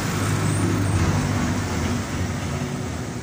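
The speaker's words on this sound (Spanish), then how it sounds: "Hay mucho ruido por los camiones que pasan por aquí." Trucks pass by outside, a continuous rumbling roadway roar that swells and then eases slightly, with no voices present.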